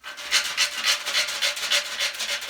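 A crayon rubs back and forth on paper laid over an old griddle pan, a close, coarse rasping scrape that pulses in quick, even strokes about four times a second.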